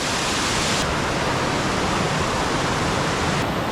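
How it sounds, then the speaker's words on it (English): Broadband rushing water from a small layered waterfall dropping down three tiered steps like a mini staircase at a hidden camp spot, steady and close with no talk. "Kind of like a layered waterfall."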